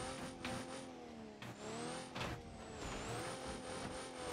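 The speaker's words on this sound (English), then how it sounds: "Oh shit, I popped a tire." A tire pops on a car in the BeamNG.drive video game. The engine hums steadily, then a couple of sharp, sudden bursts and rubbery scrapes cut through. It is mid-distance and continuous, with no talking.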